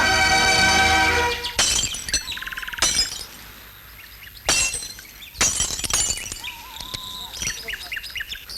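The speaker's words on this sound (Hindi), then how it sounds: "ये शीशा क्यों तोड़ा?" A glass pane smashed in a telefilm scene, several sharp shattering crashes with tinkling shards among loud bursts, separated by quieter gaps with faint chirping.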